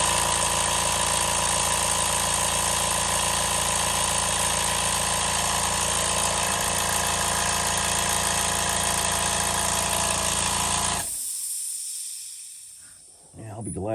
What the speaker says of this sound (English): I've never had the compressor come on while I've been doing videos.